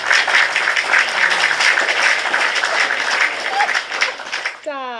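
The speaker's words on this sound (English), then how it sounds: "give myself a clap" A crowd applauds in a busy, continuous wash of hand clapping that holds steady for several seconds, then fades near the end as a person begins speaking.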